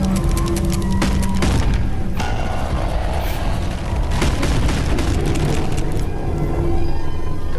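A boss's shot explodes in the Animal Company video game: a loud boom and dense crackling blasts that fill the whole stretch, with a few sharp impacts standing out and no one talking.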